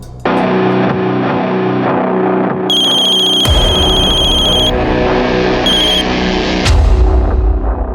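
A telephone ringtone sounds in a Crime Patrol crime-drama scene, with electronic tones in two bursts over a loud, continuous dramatic music score.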